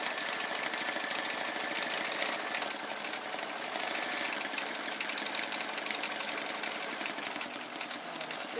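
Embroidery machine stitching at full speed, a dense continuous mechanical whir with rapid needle chatter running steadily and fairly loud throughout, no voices.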